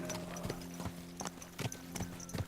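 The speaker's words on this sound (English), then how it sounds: "My God, that looks like a bloody expensive horse." Horse hooves clip-clop at a steady walking rhythm in the medieval game Kingdom Come: Deliverance II, a series of distinct close thuds with no talking over them.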